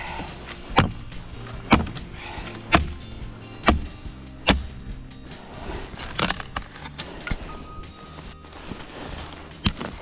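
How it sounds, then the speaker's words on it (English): Dry wood is chopped outdoors for a campfire, with five sharp, evenly spaced axe strikes about a second apart, followed by softer, irregular knocks and splintering. "Crack off a couple of them over there, and I'll chop this one here now."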